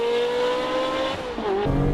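Porsche 996 Turbo and Ferrari Modena accelerating side by side in a race, a loud, rising engine whine that briefly dips on a gear change and then pulls again, close and with no talk.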